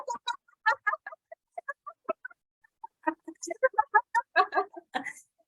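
A group of people vocally imitate a bird's squawk while exhaling a deep breath, a series of short, bursty squawking calls repeated in a loose rhythm, close and fairly loud.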